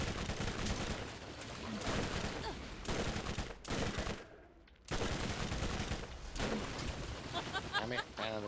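Rapid bursts of gunfire from the video game Borderlands crackle in dense volleys, broken by one short lull before the shooting resumes; a voice briefly mixes in.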